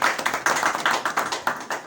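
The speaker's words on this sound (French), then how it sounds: "nous vous demandons de devoir applaudir" Applause at a ceremony handing out footballs for a tournament comes as sharp, rhythmic claps. They sound close and fairly loud, like a few people or a small group clapping in a quick, uneven beat.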